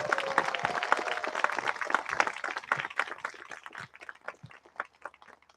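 Audience applause for 28 new American citizens at a naturalization ceremony. A dense, steady round of clapping starts strong and gradually thins out and fades toward the end.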